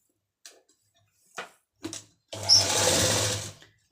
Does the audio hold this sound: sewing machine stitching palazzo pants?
yes